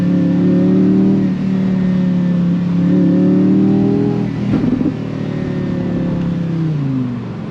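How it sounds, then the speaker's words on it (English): Audi R8 V10 Performance Spyder engine droning loudly up close through several gear changes, with a sharp crackling pop from the exhaust midway and a falling note at the end. "And it's popping and banging."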